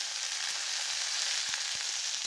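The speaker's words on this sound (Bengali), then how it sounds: "মশলাটাকে ভেজে নিচ্ছি। এখন দিয়েছি চিকেন" Spice masala and ginger-garlic paste frying with chicken pieces in a pan for chicken vegetable noodles, a steady, bright hiss of sizzling oil with a few soft taps of stirring, fairly quiet and without voices.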